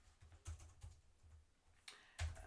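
Quick bursts of keystrokes on a computer keyboard while writing code, soft and close, with short pauses between clusters of taps.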